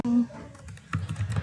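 Keys on a computer keyboard are tapped while entering a Cisco VLAN configuration command, a quick burst of several close keystrokes following a short voice.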